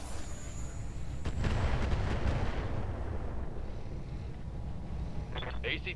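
Mortar fire in the Roguetech BattleTech game, a heavy booming blast rolling out over a low rumbling battle din, followed by fainter crackling pops near the end.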